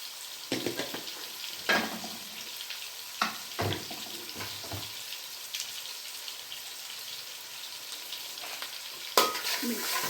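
Chili powder is stirred into gobi manchurian, cauliflower frying in a pan. A soft, continuous sizzle runs under close, intermittent spoon scrapes and knocks.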